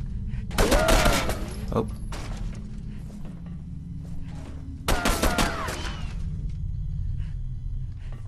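Two loud bursts of rapid gunfire in the video game Condemned 2: Bloodshot, each a sharp crackling volley followed by a low rumbling tail, over a dim background hum.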